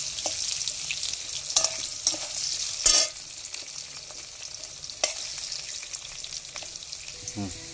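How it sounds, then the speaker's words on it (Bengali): Potatoes frying in oil in a pan, reddening for a Bengali mutton kosha, give a steady sizzle throughout, with a few brief clinks and stirring bumps along the way. "3 থেকে 4 মিনিট আলুটা লাল করে ভেজে নেব।"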